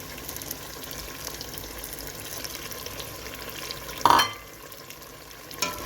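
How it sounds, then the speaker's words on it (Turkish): Water pours steadily into a pot of grated tomatoes for an Uzbek meat soup. A continuous rushing wash runs throughout, with a brief louder splash or clatter near the end and no talk. "Şimdi de domatesini ekleyip sonra suyunu ekleyeceğim."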